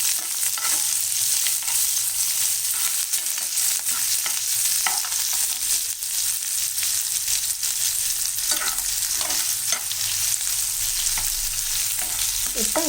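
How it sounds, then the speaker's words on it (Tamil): Sliced onion fries in hot oil with popped mustard seeds for a broad bean poriyal, giving a loud, continuous sizzle and crackle with occasional stirring scrapes and no talking. "இதில் நம்ம வெங்காயம் போட்டுக்கலாம். இதையும் நல்லா கொஞ்சம் வதக்கி விட்டுடலாம்."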